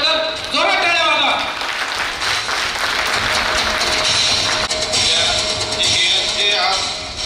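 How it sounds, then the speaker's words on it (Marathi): An audience at a tenth-grade alumni reunion claps loudly, with sustained applause running for several seconds before fading slightly near the end. "आमचे स्वप्न पूर्ण केल्याबद्दल जोरात टाळ्या वाजवा."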